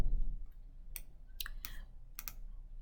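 A computer mouse clicks through a Blackboard online course page: a handful of crisp, close clicks, some in quick pairs, spaced over a few seconds with no talking.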